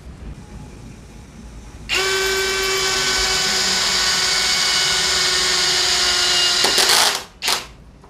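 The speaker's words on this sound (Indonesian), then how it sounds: "kita akan menguji hammer drill DCA ini dengan mode screw torsi 14 karena ini kayu keras bengkirai." A DCA cordless hammer drill in screw mode at torque setting 14 drives a screw into hard bangkirai wood, with a steady loud whine for about five seconds that then winds down, followed by a short clicking burst.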